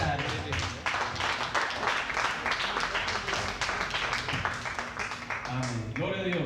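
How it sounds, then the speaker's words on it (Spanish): A church congregation applauds their pastor with steady, moderately loud clapping that continues throughout, mixed with voices and sounds from the room. "vamos a recibirlo con un fuerte aplauso al pastor Adrián Vega en esta tarde"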